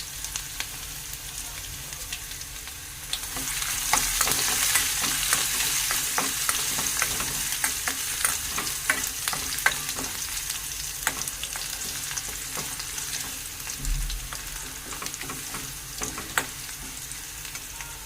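Dried red chillies and garlic fry in oil in a pot as a tempering for pappu gongura. A continuous sizzle and crackle swells after a quiet start, with frequent small pops and stirring scrapes, close and steady, and no speech.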